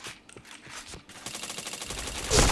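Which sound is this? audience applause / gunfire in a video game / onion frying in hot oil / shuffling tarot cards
gunfire in a video game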